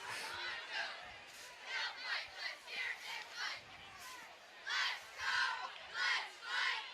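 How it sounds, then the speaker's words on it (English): A large crowd fills White Stadium at a high school football game between the Latin Academy Dragons and the Boston Latin Wolfpack, a steady roar of many voices swelling in repeated rhythmic chants and cheers, heard from a distance. "Oh, it's a huge crowd. This is a huge crowd."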